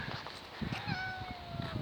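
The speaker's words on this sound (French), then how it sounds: "Oh, les miaulements." A cat meows in a drawn-out, sliding cry, fairly close, with a second shorter call near the end and light rustling and low background noise beneath.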